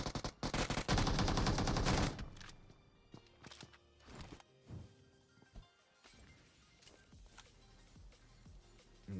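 Gunfire in a tactical shooter match: a dense, loud burst of automatic fire for about two seconds, then scattered sharp single shots and footsteps at varying distance.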